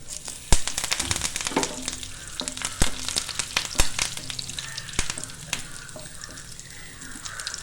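Shallots and curry leaves frying in hot oil in a pan, a loud close crackling sizzle with sharp popping spatters scattered throughout, gradually settling to a steadier hiss.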